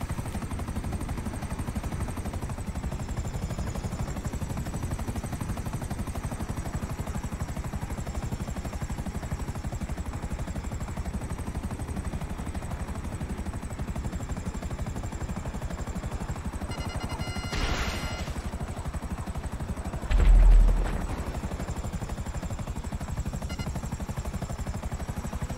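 Helicopter flying in the video game GTA Online, a steady low rotor drone running throughout, with a brief burst of gunfire-like crackle in the middle and a short thump near the end.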